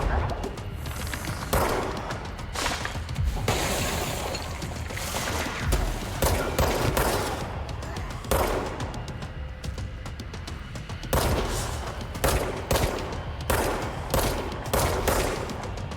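Rapid bursts of automatic gunfire from the video game Control crackle loud and close across the whole stretch, in repeated volleys with brief gaps between them.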